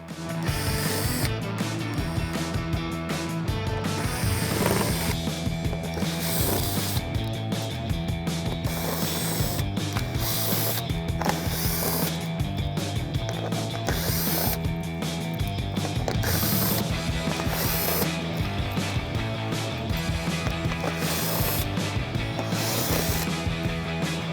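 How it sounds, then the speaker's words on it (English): Ratchet loosening belly pan screws on a 2018 Mustang GT, a dense continuous clicking and whirring that runs nonstop and loud throughout, with no voices. "you wanna start off by removing the 19 7mm screws and 2 plastic rivets on the belly pan"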